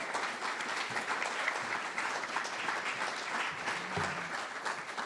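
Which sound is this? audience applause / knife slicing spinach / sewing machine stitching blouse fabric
audience applause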